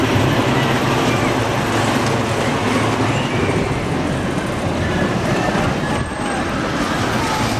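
A Swamp Fox roller coaster rumbles through the trees at a Myrtle Beach amusement park, a loud continuous roar with rattling wheels that stays steady throughout, heard up close.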